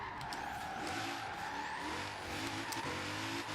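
Tires squeal steadily as a car drifts through a corner in a racing video game, an untuned car with only upgrades, engine droning underneath for a few seconds with no talk.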